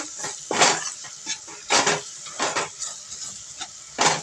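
A spoon scrapes a pan as ground coconut-peanut paste is stirred with onion, tomato and dry spices for an eggplant bharit, giving irregular close scraping strokes separated by short pauses.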